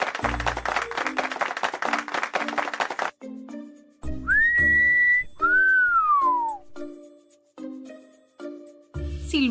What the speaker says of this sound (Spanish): Silbar, sí, sí.